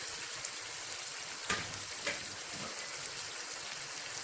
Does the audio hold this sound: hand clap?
no